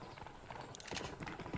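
Horse hooves clip-clop in a steady trotting rhythm in the Red Dead Redemption video game, sharp hoof strikes fairly close over a soft background bed.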